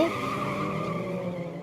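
Tires screech in a sustained skid as a car is brought to a stop after one of its tires is shot out during a Sleeping Dogs chase, with a steady squeal running the whole way with no let-up.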